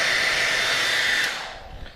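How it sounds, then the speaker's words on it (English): Hair dryer running on high to heat the adhesive of a TechSpec motorcycle tank pad during installation, a steady close airy blowing roar that eases off and drops in level near the end. "if you're using a hair dryer, put it on high"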